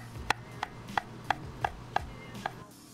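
A knife slices through mushrooms on a cutting board for a kimchi udon stir-fry, making seven crisp, evenly spaced chops about a third of a second apart, close up with no talking.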